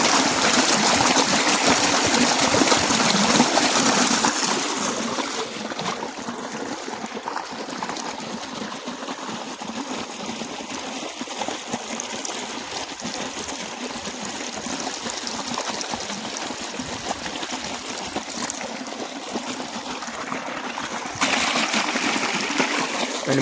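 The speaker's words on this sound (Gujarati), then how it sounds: "જરીક પાણીથી ધોઈ નાખી" Water running steadily from a pump outlet in a farm field at night, a continuous close splashing flow that swells louder at the start and end.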